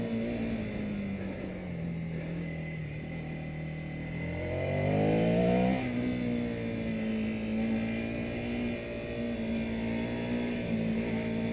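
A Ducati Scrambler Sixty2 motorcycle rides along a road in Kathmandu, its engine droning steadily close by, rising in pitch and loudness around the middle as it revs, then settling back to a steady cruise.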